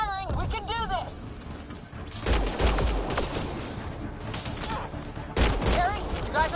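Shots and bursts from a Mass Effect Andromeda battle come in clusters, loud near bursts at intervals with quieter stretches between, while characters shout and talk throughout.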